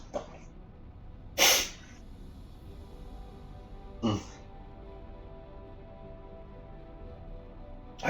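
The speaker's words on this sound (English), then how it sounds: "I have to sneeze." Two sharp sneezes several seconds apart, the first louder and longer, with quiet breathing and background hiss in between.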